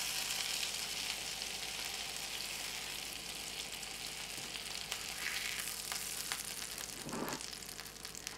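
Sausage patties fry in a pan with a dense, continuous sizzle, close and fairly quiet, with a soft scrape near the end and no voices.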